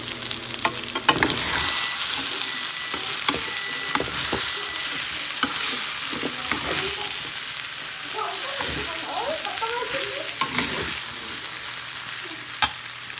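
Pre-fried soybean chunks and potatoes fry in spiced oil in a pan, giving a loud, steady sizzle broken by occasional spatula scrapes and knocks against the pan, heard up close.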